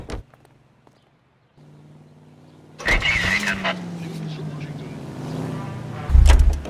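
Car engine driving in the video game L.A. Noire, a steady hum starting after a quiet stretch, then louder revving with whooshing and bursts of game noise on top, with voices talking over it.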